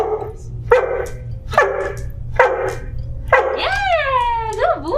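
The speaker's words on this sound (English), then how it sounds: "he's gonna bark continuously until somebody comes to help me, or until I tell him okay" A trained assistance dog barks repeatedly on a whispered command, four sharp evenly spaced barks followed by higher whining yelps, loud and close over a low background hum.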